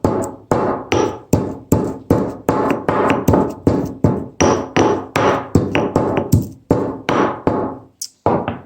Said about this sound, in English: So we're just going to give this a little bit of a pound. It doesn't need to be super granular.